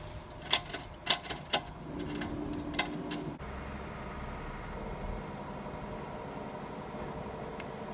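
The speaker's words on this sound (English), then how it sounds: "Typewriter is pretty sweet." A typewriter at a thrift store gives several sharp, close key strikes clacking in an uneven burst, a few more taps following, then a low steady background hum alone.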